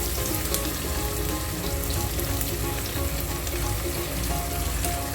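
Sliced onions frying in hot oil with cumin seeds, a dense crackling sizzle that runs steadily throughout, close and fairly loud, with no one talking.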